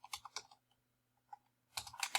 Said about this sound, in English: So I will type in there.